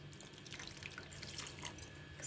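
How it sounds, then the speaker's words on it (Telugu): Water from a glass poured into a cooking pot of sweet potatoes for a Telugu sweet potato and mango curry, a steady trickling splash alone at low level for a couple of seconds. "ఉడకటానికి ఒక గ్లాస్ వాటర్ పోసాను."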